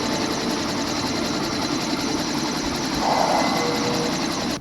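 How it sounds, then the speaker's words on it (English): A helicopter in the game The Secret World, a steady loud rotor and engine drone that holds throughout with a slight swell near the end before cutting off, no talk. "we travel in style with kick-ass helicopters."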